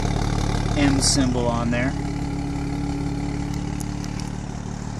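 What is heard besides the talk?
BMW 435 Convertible with M Performance exhaust idling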